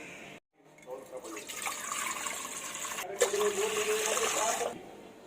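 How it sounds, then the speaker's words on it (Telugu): Water streams into a cooking pot after a brief silence, a bright continuous pouring rush that builds and splashes, then stops abruptly. "ఇప్పుడు ఇందులో వాటర్ పోసుకుందాం."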